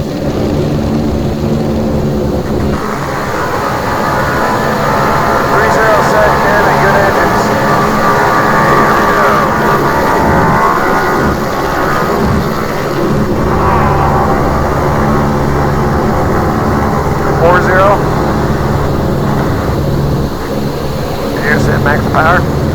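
Piston engines of a B-29 bomber run at maximum power for takeoff, a loud, steady roar with a deep rumble that barely changes. Crew voices come over the intercom now and then beneath it.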